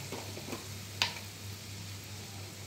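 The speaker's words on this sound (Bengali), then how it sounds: "এবার আমি সব মশলাগুলো ভালোভাবে মিশিয়ে" Spices being stirred into paneer butter masala in a pan, a soft steady sizzle with faint scraping strokes and one small clink of the spoon, quiet and close.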